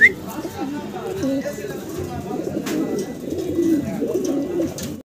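Spanish pigeons, a Black Tiger and a Red Tiger, coo steadily as two males fight, a continuous low murmuring coo with some bird chatter, close and moderately loud throughout.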